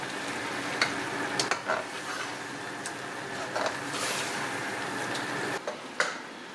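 Pork curry being stirred in a pan with spices and mango powder, steady frying sizzle broken by scattered scraping clicks of the spoon against the pan, close and fairly loud, no talking.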